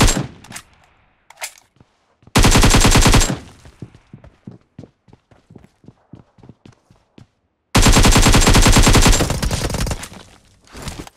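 Rapid automatic gunfire in a mobile battle game, two loud sustained bursts of about a second each, separated by a string of quieter single shots and clicks, with no voices.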